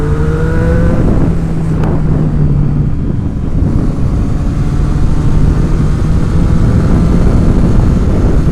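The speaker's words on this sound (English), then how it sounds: "This exhaust sounds amazing." A motorcycle fitted with a LeoVince aftermarket exhaust revs near the microphone, its engine note climbing briefly at the start and then settling into a steady, throaty drone under constant wind rush.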